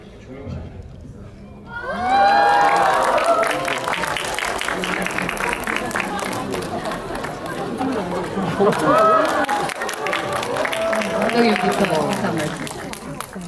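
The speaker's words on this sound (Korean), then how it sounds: "무대로 모실게요. 박수 보내주세요" Cinema audience at a stage greeting for the 2018 Korean film The Spy Gone North applauds as director Yoon Jong-bin and actors Hwang Jung-min, Lee Sung-min and Cho Jin-woong walk onstage. Loud clapping and cheers surge in after two seconds and continue under a host's voice.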